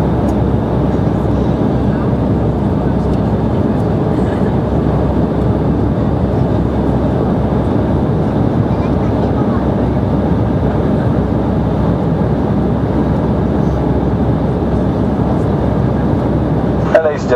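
Steady, loud airliner cabin drone fills a KLM flight from Milan to Amsterdam, a constant broadband engine and air rush that does not let up, with a voice speaking faintly under it.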